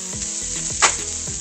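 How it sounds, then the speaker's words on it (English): Ground beef cooking in a pan gives a steady close sizzle and frying hiss, with a brief louder crackle midway and faint soft knocks of stirring underneath. "Then I got my ground beef cooking."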